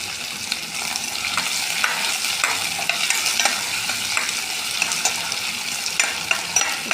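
Chopped onion pieces sizzle steadily in a hot pan for a fish and potato pulusu, with continuous stirring and scraping strokes throughout and no voices.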